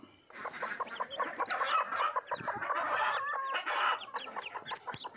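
A broody hen sitting on eggs clucks repeatedly at close range, a busy run of short calls with a few sharper squawks, no talking.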